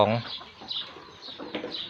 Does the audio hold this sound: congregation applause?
no